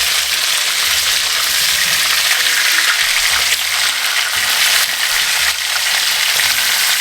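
Lamb neck pieces brown in a hot frying pan, giving a loud, steady sizzle and crackle that stays constant, close up, with no voices over it.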